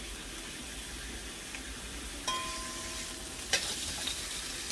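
Spinach and other vegetables browning in a pot for a pig's-trotter stew, a steady low sizzle with a couple of brief clinks of a utensil stirring.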